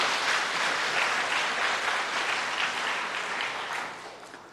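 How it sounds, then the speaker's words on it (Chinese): Warm applause from a church congregation welcoming the pastor before a sermon: dense, steady clapping from many hands that holds strong throughout and tapers slightly at the end. "我们用热烈的掌声来欢迎他"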